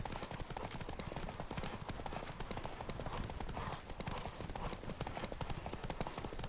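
Horse hooves gallop in a fast, steady clip-clop across the whole stretch in The Witcher 3 video game, dense and continuous with a rushing background and faint speech.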